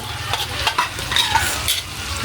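Mung beans are stirred as they fry in a pan, giving a steady close sizzle with scraping spoon strokes and small clinks throughout, loud and without talk.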